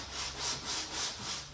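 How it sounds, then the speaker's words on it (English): Coarse 80-grit sandpaper on a flat block scrapes across glaze putty on a Jeep Grand Cherokee body panel, close and steady, with rhythmic back-and-forth strokes swelling and fading in even repetitions. "I'm gonna go ahead and start sanding the glaze putty"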